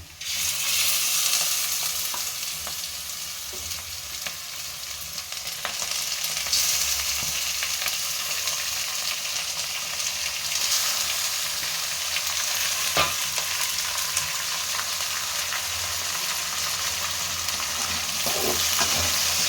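Continuous loud sizzling of chicken frying in a hot pan, with occasional scraping clicks of stirring throughout, no voices.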